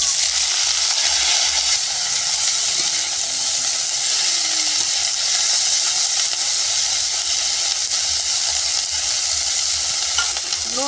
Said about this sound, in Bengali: এবার ফুলকপিটা ভাজা করব।